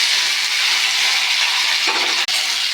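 Cut potato pieces hit hot oil tempered with cumin seeds, giving a steady, close, broadband sizzle that holds for the full stretch, with a brief stirring clatter near the end and no talking.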